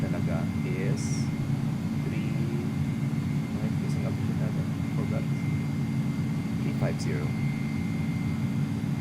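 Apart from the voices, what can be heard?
Airbus A300 airliner engines in flight, from X-Plane 11 video game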